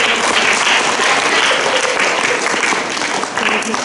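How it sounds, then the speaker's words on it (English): A school assembly crowd claps loudly and steadily for the year 4 winners, a dense, close wash of applause lasting throughout. "Let's give them a big round of applause."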